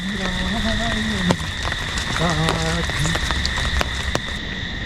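Steady hiss of heavy monsoon rain falling continuously beside the Indrayani river near Malvali, Lonavala, with people talking over it in the foreground.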